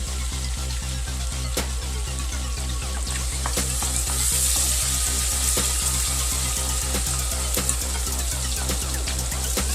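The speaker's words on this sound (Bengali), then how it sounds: "চিংড়ি মাছটা কিন্তু খুব বেশি ভাজবো না, তাহলে চিংড়ি মাছগুলো শক্ত হয়ে যাবে।" Prawns sizzle loudly and continuously in a hot pan, with a regular rhythmic pulse and frequent clicks and scrapes of stirring up close.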